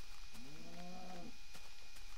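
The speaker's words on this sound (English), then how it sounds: "There's another cow." A cow in a video game gives a single low, drawn-out moo of about a second, fairly faint against steady background noise, with no speech.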